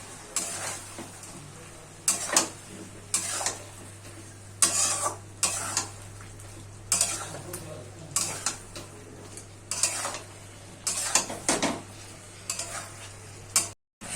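A spoon repeatedly stirs and scrapes through mustard and poppy seed paste loosened with a splash of water in a metal pan, giving bursts of clattering, scraping strokes over a faint steady hum, no voices.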